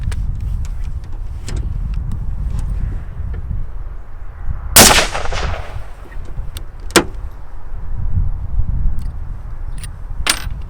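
A single shot from a Merkel K5 Extreme single-shot rifle fitted with a scope and moderator, one sharp suppressed crack near the middle over outdoor background rumble, followed by fainter mechanical clicks.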